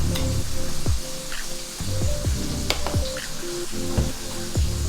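Chicken frying in oil for a Raising Cane's-style meal, a continuous close sizzle with crackling pops and bubbling spatters scattered throughout.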